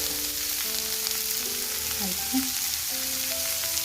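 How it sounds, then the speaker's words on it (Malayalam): Drumstick masala curry with onions frying in a pan while being stirred, a steady loud sizzle with soft scraping strokes throughout, no talking. "നന്നായിട്ട് ഇളക്കി കൊടുക്കാം"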